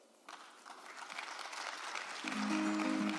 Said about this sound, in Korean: 좋은 말씀해 주신 한국거래소 손병두 이사장님께 큰 박수 부탁드리겠습니다